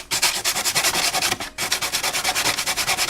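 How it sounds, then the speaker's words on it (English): Sandpaper on a hard block rasps back and forth over the edge of a carbon fiber Ducati fairing in steady, loud strokes, with a brief pause midway and no talking. "I just sand it away until it's even with the edge around it"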